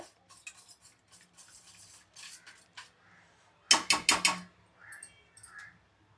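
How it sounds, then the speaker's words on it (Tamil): Batter mixed with salt being whisked in a bowl, quiet scattered taps at first, then a loud quick burst of four or five whisk strokes, followed by a few soft scrapes. "நல்லா விஸ்க் வச்சு இப்படி ஃபுல்லாக அடித்து விட்ருங்க"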